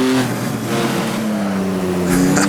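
A race car pushes through the tight hairpins of the laser-scanned Targa Florio road course in the Assetto Corsa sim game, its engine droning steadily and loud with pitch sagging then climbing again as it powers out of a corner.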